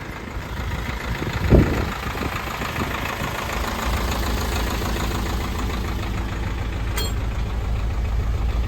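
A Chevrolet W4500 cabover box truck's 4.8 liter turbo diesel idles steadily and close by, a continuous low engine rumble with one brief knock early on and no voices.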